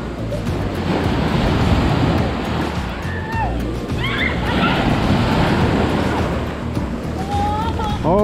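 Big ocean waves break at a small beach in a continuous loud roar of surf. Faint voices and a few short higher calls sound over the crashing water.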